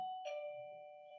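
A single bell tone rings out, then a second chime strikes and both ring on, sustained and fading slowly in a quiet meeting room as a utility advisory board meeting adjourns.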